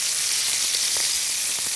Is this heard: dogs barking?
no